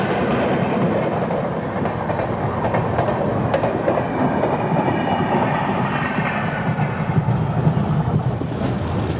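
The Visakhapatnam–Mumbai LTT SF Express (22847) runs near Vidyavihar station, a loud continuous rumble with rhythmic wheel clatter and faint squeals, heard from inside the moving train with no talk.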